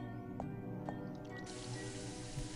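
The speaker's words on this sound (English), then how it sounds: "Turned on the water." A water tap in the Fran Bow video game is turned on, with a couple of soft drips first and then a steady running hiss of flowing water over a low background hum.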